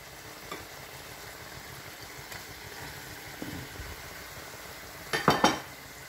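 Sliced sayote being stir-fried in a pan with shrimp paste, a low steady sizzle with a few soft stirring scrapes and a brief burst of clinking utensil contacts near the end.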